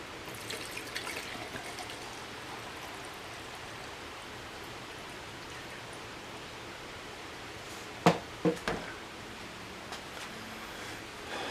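Fuel being poured out of a Husqvarna 125B leaf blower, a faint, steady thin trickle, with a few sharp clunks of handling partway through.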